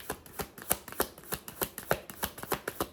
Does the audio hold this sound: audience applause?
no